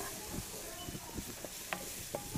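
Onions cooking gently in a pan on an induction hob for osso buco make a faint, low sizzle with soft scattered pops and light stirring, quiet and close.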